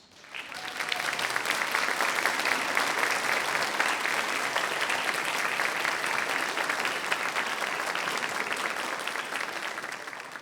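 Graduates at a University of Aberdeen winter graduation ceremony give their supporters across the aisle a loud, steady round of applause that builds quickly and holds evenly for about ten seconds.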